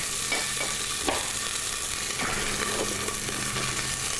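Garlic frying in olive oil gives a steady, close hiss with light stirring scrapes and a few soft clicks; no one talks.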